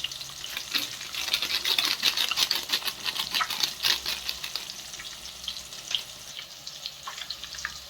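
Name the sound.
eggs frying in oil with cumin and chili powder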